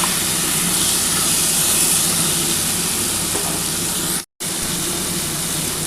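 Potatoes and ridge gourd with salt and turmeric fry in a pan, giving off a loud, steady sizzling hiss that cuts out for a brief moment near the end.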